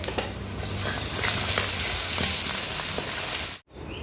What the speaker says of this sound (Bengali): আলুগুলো তেলের উপর দিয়ে ভেজে নিচ্ছি